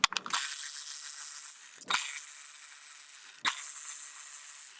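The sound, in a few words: ratchet unscrewing 10mm coil pack bolts on Kia Forte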